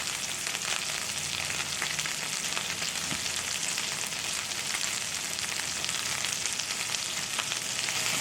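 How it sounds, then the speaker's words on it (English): A steady, dense sizzle of burger patties frying in butter in a pan over medium-low heat. It runs continuously without pause, and no one speaks. "They're sitting there sizzling away in butter."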